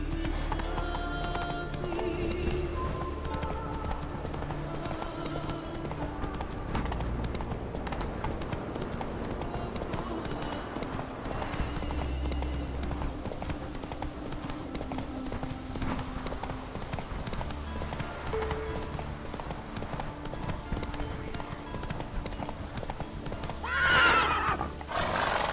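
Roach, the horse in The Witcher 3, galloping with a steady, continuous run of hoofbeats over game music, plus a loud neigh near the end.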